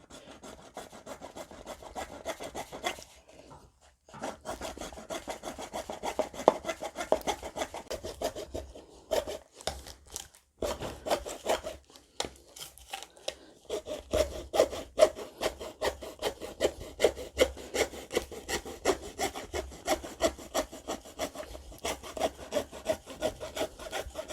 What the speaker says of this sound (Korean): 그러면 요걸 한번 잘라 보자고요 이거는 뭐, 저, 음? 시중에서 그냥 산톱인데